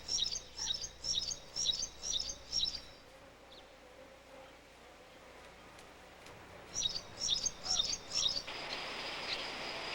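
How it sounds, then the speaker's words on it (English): Red-throated pipits on spring migration north through wetlands toward Siberia and Alaska give thin, high calls in two quick rhythmic bouts of repeated notes, fairly close and clear over a quiet background. "The red-throated pipit may be the farthest traveled of them all."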